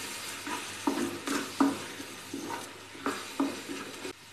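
Onions and tomatoes fry in a pan for besan gatte sabzi, a soft sizzle under a run of evenly spaced stirring scrapes, about one every half second.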